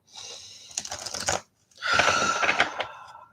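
Oracle cards being shuffled by hand for a morning reading, giving two close bursts of crisp papery riffling with a short pause between them, no talking.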